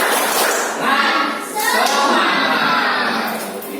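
A class of children does the rhythmic tepuk semangat clapping chant, with loud clapping under shouted voices and crowd noise throughout.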